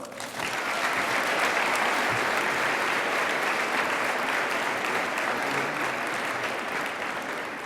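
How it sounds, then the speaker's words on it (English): A school Veteran's Day program audience breaks into sustained applause for a veteran, a dense, steady wash of many hands clapping that swells quickly and holds for the full length at close range. "Please give a round of applause for Chief Jeske."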